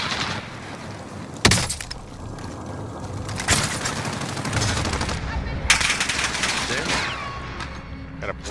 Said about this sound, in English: he's sniping at me